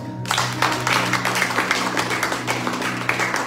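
A congregation applauds during a Christmas church service, a continuous wash of clapping at moderate level with a low hum underneath, no voices evident.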